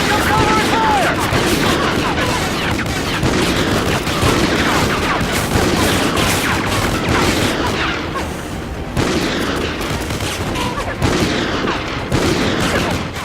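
Dense gunfire in an Xbox 360 shooter game, rapid overlapping shots and bursts from light machine guns crackling continuously, with in-game soldiers shouting orders over the firing.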